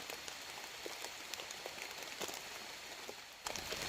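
Light rain patters outdoors during mushroom foraging, a faint, scattered spray of drops with occasional sharper taps and no talking.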